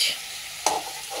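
Chilli chicken frying with capsicum and onion in a pan, a soft steady sizzle with one sharp stirring scrape partway through.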